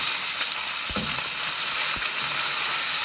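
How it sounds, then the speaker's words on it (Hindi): Chicken pieces fry in a pan for masala, giving a loud, dense, continuous sizzle with a couple of brief stirring knocks. "अब हम इसको अच्छी तरह फ्राई कर लेंगे जब तक इसका चिकन का कलर अच्छी तरह चेंज हो जाए"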